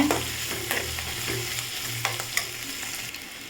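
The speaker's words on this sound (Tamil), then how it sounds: "நமக்கு வெங்காயம் நல்லா பொன்னிறமாக வதங்கிட்டு இருக்குது" Onions sautéing until golden for a village-style chicken sukka, a continuous close sizzle with a few sharp scrapes and clicks of a spoon against the pan, and no talking.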